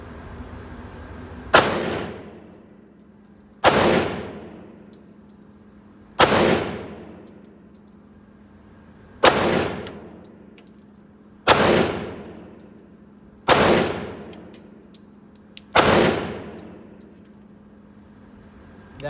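Seven loud, sharp gunshots from a Kimber Stainless Raptor II pistol fired at targets 20 feet away, evenly spaced about two seconds apart, each with a ringing decay, no talking.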